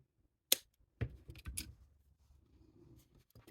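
Wire cutters snip excess wire from a wire-wrapped bangle, giving a sharp click near the start and softer clicks and handling noises after it, close and quiet with no talk.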